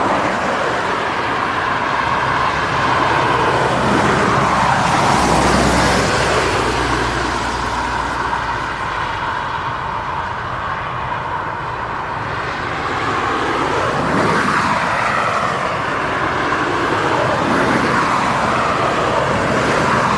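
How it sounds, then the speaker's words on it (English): Traffic on a busy road just below an airport viewing area makes a continuous roar of passing vehicles, loud and steady with swelling passes, and no talk. "Samuel, it's traffic you can hear. We're next to a busy road."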